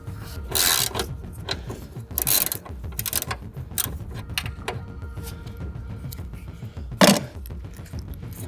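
A seized bolt on a Honda Civic being worked loose: close, gritty mechanical clicks and ratcheting creaks with a few sharper loud cracks, over a steady background of faint workshop noise.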